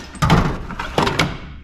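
Drawers on a DIY Harbor Freight tool cart slide open, giving a few short metallic thunks and rattles in separate bursts, close and fairly loud.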